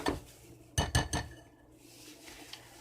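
A utensil stirs food in a pan greased with cooking spray, giving three quick loud clattering scrapes and clinks close by, then a quieter stretch with faint scraping.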